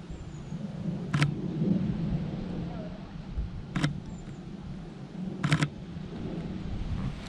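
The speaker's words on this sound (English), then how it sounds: "Here comes the rain." Rain falls steadily under a big tree while several sharp thunder-like cracks break through at intervals, with soft background murmur.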